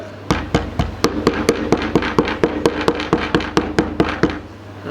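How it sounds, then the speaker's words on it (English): A hammer taps lightly and rapidly on frozen yellowtail fish bait, about twenty sharp, evenly spaced knocks in a quick steady rhythm, close and clear with no talking. "I'm going to take my chocker hammer and lightly soften"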